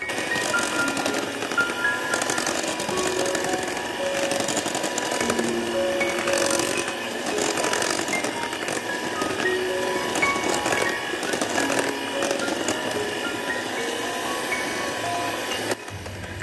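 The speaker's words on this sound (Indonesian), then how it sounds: "Setelah itu mixer dengan kecepatan rendah sampai semua adonan tercampur" An electric mixer whirs steadily at low speed through steamed cake batter, a continuous close motor hum with faint scraping, no talking.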